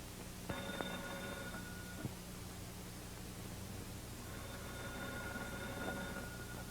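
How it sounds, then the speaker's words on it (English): Old telephone bell ringing in two bursts with a pause between them, faint and buzzing under a heavy hiss of background noise. "The telephone bell is ringing."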